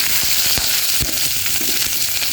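Onions fry in a hot pan with a loud, steady sizzle and a few soft knocks from stirring, with no one talking.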